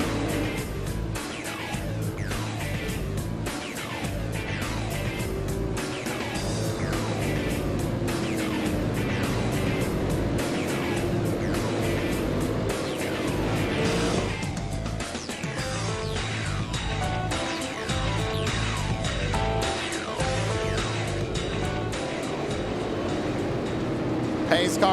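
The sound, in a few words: Super Late Model race cars at Lanier National Speedway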